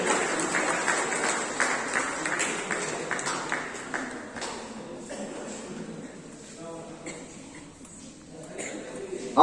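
Children clapping at a school prize distribution ceremony: a dense, steady round of applause fills the first seconds, then thins into scattered claps and fades. No talking is heard over it.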